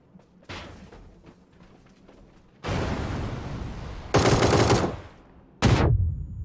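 Automatic gunfire in PUBG: Battlegrounds during a solo competitive match, with bullets striking a wall. Long, loud, dense bursts of rapid shots follow a quieter stretch of scattered distant shots, with a sharp final burst cutting in near the end.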